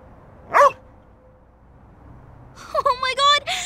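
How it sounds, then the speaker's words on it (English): A dog barks in the detective noir video game Hauma: one sharp bark, a pause, then a quick cluster of yips and barks close by, clear and prominent over quiet background. "What's this barking?"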